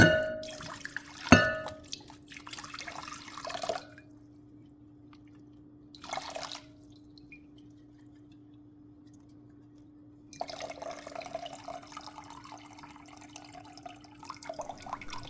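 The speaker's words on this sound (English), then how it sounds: "Just go ahead and rinse them, shake them a little, and then gently pour out the water" Rinse water splashing and draining from a sprouting jar in a home kitchen, with bursts of pouring and dripping between quiet gaps, a steady hum underneath, close and fairly clear with no talk.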